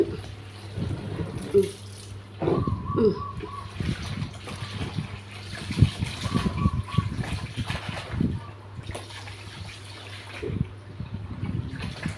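Someone bathes with cold water, pouring and splashing it in irregular bursts over a steady low hum in a small room.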